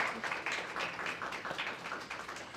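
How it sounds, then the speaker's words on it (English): Brief applause from a workshop audience for the speakers, a steady patter of clapping hands at moderate volume for a couple of seconds. "So let's give a round of applause to our speakers."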